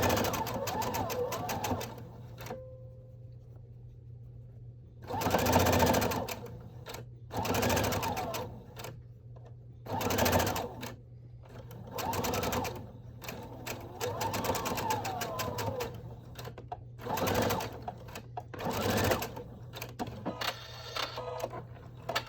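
A sewing machine runs a straight-stitch seam on a fabric face mask in repeated close bursts of rapid mechanical chatter, stopping and starting, with quieter handling in the gaps and a steady low hum underneath.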